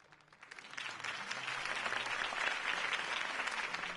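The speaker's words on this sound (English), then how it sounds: "could have heard that applause" Sustained applause from a crowd in the video game Batman: The Telltale Series swells in after a quiet start and holds steady, dense clapping filling the space.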